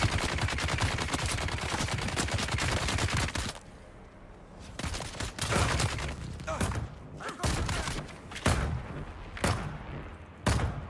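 Gunfire in the video game Dune Awakening starts as a dense, continuous barrage for a few seconds. It then breaks into scattered loud shots and short bursts, up close and intense.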